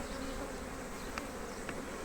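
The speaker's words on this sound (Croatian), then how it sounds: "Pčelice lijepo rade" Honeybees buzz at an open hive during a colony inspection, a dense steady drone of many insects close by, with a couple of faint clicks and no voices.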